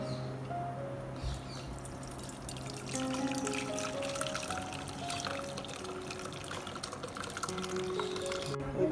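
A boiled herbal drink is strained and poured into a container, a soft steady trickle and splash of liquid at close range and low volume, with a faint background hum.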